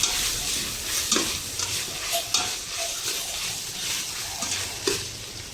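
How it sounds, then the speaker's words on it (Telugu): Ginger garlic paste fries in hot oil, a steady close sizzle with scraping stir strokes against the pan recurring every second or so, no voices. "జింజర్ గార్లిక్ పేస్ట్ ఇట్లా ఫ్రై చేసుకోవాలి ఆయిల్లో"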